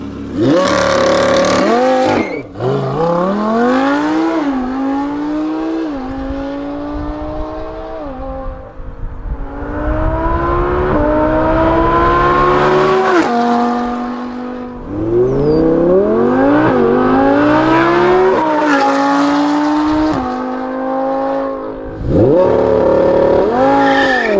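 Loud V10 engine of an Audi R8 V10 Plus with a new exhaust revving hard through the gears, pitch rising and dropping with crackling exhaust pops, sustained and close.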